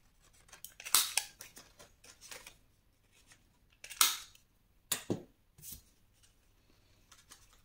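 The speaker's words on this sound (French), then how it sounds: "Moi, je vais le faire avec ma perforeuse." A paper hole punch bites through a cardboard box flap for a scrapbooked advent calendar box, giving a few sharp, crunchy cuts with scattered small clicks and rustles between them, close and fairly quiet.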